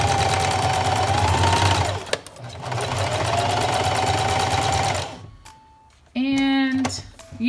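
Home sewing machine running a straight stitch on baby pants fabric, a close, fast whirring hum in two long bursts with a short pause between, then a brief quieter stop and one more short run.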